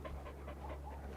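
Close, steady panting from a large 100-pound dog, quick rhythmic breaths repeating for a second or so with no voices over them.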